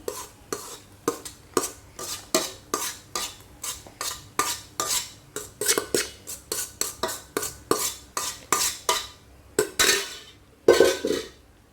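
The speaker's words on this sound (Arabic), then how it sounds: "غادي نجيب دابا المقله وغنخوي فيها هذا الخليط ديالي" A mixture is stirred in a frying pan for a simple three-ingredient dish. A utensil scrapes and clinks against the pan in a quick, steady rhythm of about two dozen strokes, fairly close, with no voices.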